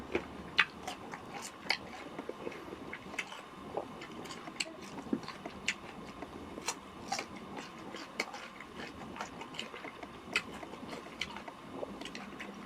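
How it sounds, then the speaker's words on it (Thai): Close, quiet biting and chewing of mango with a dipping sauce, soft crunchy bites and wet mastication recurring at an irregular pace with no speech. "เราจะชิมดูกันเลยว่ามันจะเป็นยังไงรสชาติ"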